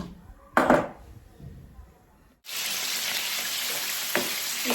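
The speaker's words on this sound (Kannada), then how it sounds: "ಈ ಪ್ರಾನ್ಸ್ನ ನಾವು ಸಪ್ರೇಟಾಗಿ ಫ್ರೈ ಮಾಡ್ತೀವಿ, ಫುಲ್ ಪ್ರಾನ್ಸ್" Whole prawns fry separately in a hot pan for restaurant-style Hakka noodles, a brief stir-like clatter first, then a steady, loud, continuous sizzle filling the rest.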